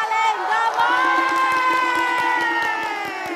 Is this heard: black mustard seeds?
no